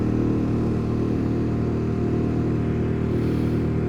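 A dual sport motorcycle engine pinned at full throttle in third gear, a steady, loud, continuous drone with a constant pitch and no pauses.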